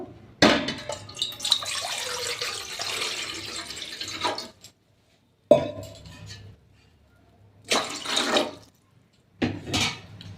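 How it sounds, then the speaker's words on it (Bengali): Water poured into a cooking pot for momo steaming, a loud splashing gush that runs several seconds, then stops and comes back in short bursts with quiet gaps between. "এর মধ্যে আমি জল দিয়ে দেবো"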